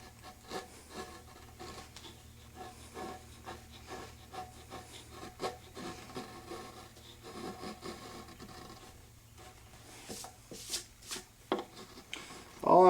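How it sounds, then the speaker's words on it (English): A 320 carving gouge shaves router-fuzzed wood downhill on an odd-shaped carving, giving close, intermittent dry scraping strokes in an irregular rhythm, with a louder flurry near the end. "I'm going to start off with my 320 carving gouge, and I'm just going to work downhill with it"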